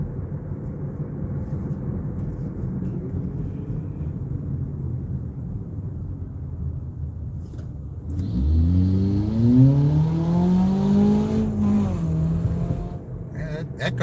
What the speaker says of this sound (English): That car sounds like it belongs in a NASCAR race, not in not on the road.